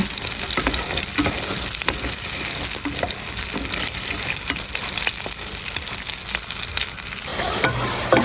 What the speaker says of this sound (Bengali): তো এখানে মশলা কষায় আমি আলুটা দিয়ে দিচ্ছি